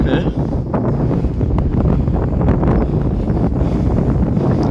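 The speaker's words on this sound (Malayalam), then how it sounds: "നല്ല കാറ്റുണ്ട് കേട്ടോ" A strong outdoor wind at the Kayarampara Makham shrine roars steadily and loudly into the microphone, a dense, unbroken rush that continues throughout.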